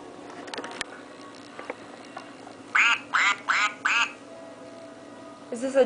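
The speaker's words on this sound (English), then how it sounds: "Is this a duck?" A toy or real duck gives four clear, evenly spaced quacks at close range, near a small child's playtime, with faint indoor movement before them and a brief voice-like sound at the end.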